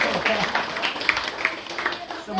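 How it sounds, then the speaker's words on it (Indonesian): A church congregation applauds at a baptism service, a steady wash of clapping filling the room for a couple of seconds, with a voice faintly audible underneath. "Beri tepukan untuk Tuhan sekali lagi."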